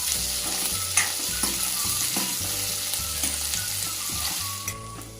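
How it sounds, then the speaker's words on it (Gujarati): Chopped onion, cumin seeds and spices sauté in a hot pan with a steady close sizzle and occasional stirring, beneath a looping musical backing. "મસાલા સંતળાઈ ગયા છે।"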